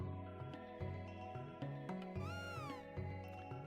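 A game cat meows in Chrono Trigger, the pet that follows Magus around, with a rising-and-falling cry over steady synthesized music that fills the clip.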